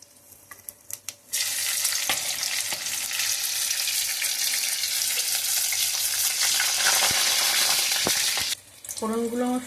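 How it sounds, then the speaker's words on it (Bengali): Whole spices such as cinnamon and cardamom sizzle hard in hot oil for a jackfruit curry, a loud continuous frying hiss after a few opening clicks, ending with a brief stir. "ফোড়নগুলো আমার সব ভাজা হয়ে গেছে"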